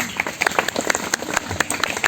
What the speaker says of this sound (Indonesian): Baik, tepuk tangan untuk kita semuanya